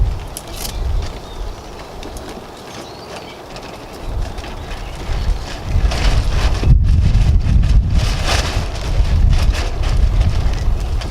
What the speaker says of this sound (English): The wind, will you stop it?